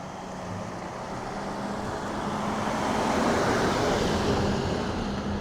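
A Porsche drives through a quiet residential court in Noble Park, Melbourne, its broadband road noise swelling as it approaches and holding steady as it passes nearby.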